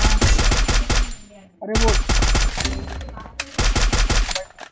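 Rapid automatic gunfire in a video game, loud bursts of shots with a brief pause between volleys, while someone speaks in Hindi over the shooting.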